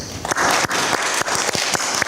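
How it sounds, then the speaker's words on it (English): An audience at a church gathering breaks into a round of applause, dense continuous clapping filling the room with a few sharper individual claps standing out, loud and close. "you all need to give yourselves a big round of applause"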